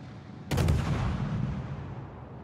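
A naval destroyer's guns fire in World of Warships, a single sharp boom that rolls out into a long fading rumble, heard alone without talk.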